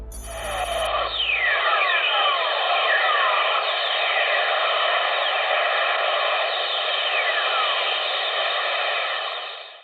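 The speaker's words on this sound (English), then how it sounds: "This is what lightning sounds like on Earth from space as detected by spacecraft above Earth's ionosphere." Whistlers, radio signals from lightning picked up by spacecraft above Earth's ionosphere, play as repeated descending whistling sweeps over a loud, steady hiss of static.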